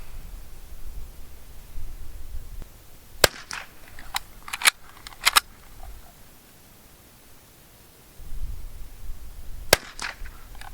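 Sharp rifle shots at a 50 m three-position rifle event, several scattered cracks near and far, some in quick pairs, over a faint background hiss of a range.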